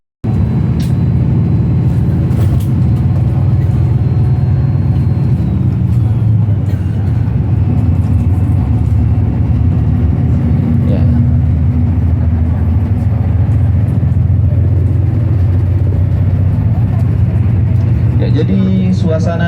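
Steady low engine rumble and road noise from inside a moving bus with the air conditioning running, on a city tour of Mecca, continuous and loud throughout with a person talking over it.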